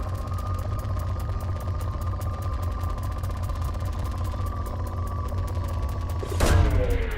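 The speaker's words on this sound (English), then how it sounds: "Launching probe." A probe launches in the video game Mass Effect 2: a steady mechanical drone hums for several seconds, then a sudden loud whooshing burst near the end.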